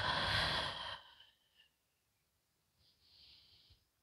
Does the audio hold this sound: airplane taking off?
no